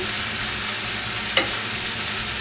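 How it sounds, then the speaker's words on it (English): Chicken breast sautéing uncovered in a pan with vegetables for a Tex-Mex linguine, a steady broadband sizzle throughout with one brief sharp clink near the middle, no voices. "I just want to saute this to get this going"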